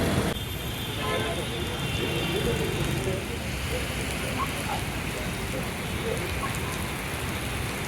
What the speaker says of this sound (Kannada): ಬರೀ ಮಳೆಯೋ ಮಳೆ.